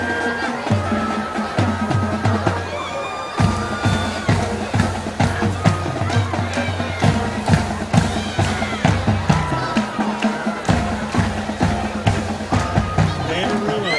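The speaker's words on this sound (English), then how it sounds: "Packed house is probably the biggest crowd they'll have all year." Packed stands at a 2010 high school football game, Ashford versus Houston County, with a loud crowd murmuring and cheering steadily under a booming PA voice and band-like rhythmic thumps.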